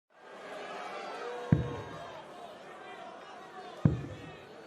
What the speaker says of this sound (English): Crowd find their voice once again.